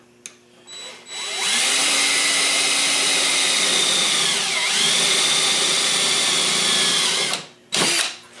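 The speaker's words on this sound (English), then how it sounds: "This guy, I'm going to drill right on the edge here." A power drill bores into the edge of a mini bike part during final assembly, a loud sustained whine that starts after a brief click, dips in pitch midway as it bites, then cuts off, followed by one short final burst.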